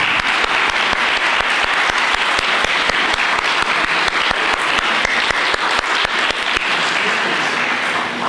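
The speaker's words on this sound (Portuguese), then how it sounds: "uma salva de palmas para o nosso palestrante" Steady applause from a sizable audience welcoming a speaker, dense and even clapping that holds throughout without letting up.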